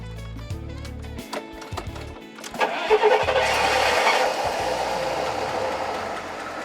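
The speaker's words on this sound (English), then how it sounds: "The sort of humming sound you hear was the vacuum pump." An engine cranks and starts, then settles into a steady, loud mechanical hum from a vacuum pump in a GMC motorhome that continues to the end.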